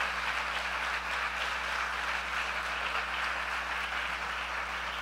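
Sustained applause from a church congregation honoring volunteers, a steady dense wash of clapping under a low constant hum, even and unbroken throughout.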